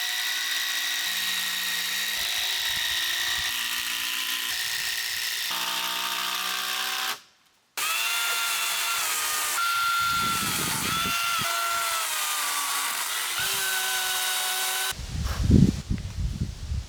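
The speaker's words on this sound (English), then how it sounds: "Gonna screw everything in, and then the frame should be done." A power drill drives screws into a log deck frame outdoors, with repeated sustained whirring runs of changing pitch, one brief pause midway, then a rougher burst at the end.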